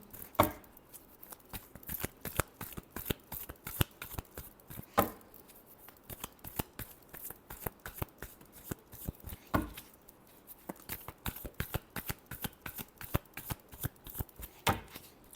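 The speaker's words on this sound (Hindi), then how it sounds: "Last shuffle." Tarot cards are shuffled by hand in rapid, rhythmic bursts of crisp riffling and slapping, close and clear, with short pauses between rounds and no speech.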